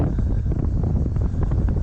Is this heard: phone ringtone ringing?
no